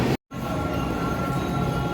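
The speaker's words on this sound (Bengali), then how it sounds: "এই যে আমাদের ট্রেন আসছে কোলফিল্ড, এই যে ঢুকলো।" A train pulling into a station: a steady, loud rolling rumble with a faint high squeal, broken by a brief dropout near the start.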